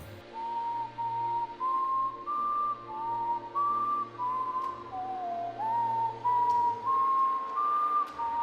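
Someone whistles a tune in clear, sustained phrases, each note held and stepping up and down in a simple melody over a faint low hum.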